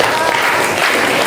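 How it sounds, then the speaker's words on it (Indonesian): Classroom applause for a student assistant during a geography lesson on thematic maps, a short, dense burst of clapping from a group of students filling the room. "Tepuk tangan buat asisten."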